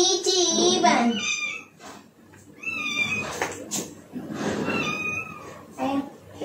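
A pet cat meows repeatedly up close, several plaintive drawn-out cries spread through the moment, mixed with a person talking to it.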